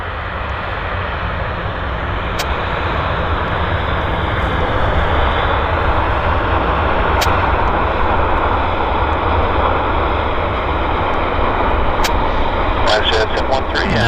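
A Boeing 737 airliner lands on runway 26 right at Vancouver airport and rolls out, a steady, loud broadband engine and airframe roar filling the whole span with talk over it and a few brief clicks near the end.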